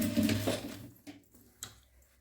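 A sewing machine runs briefly, stitching a seam on a fabric dish towel. A short whirring burst is followed by quiet, scattered clicks and handling sounds.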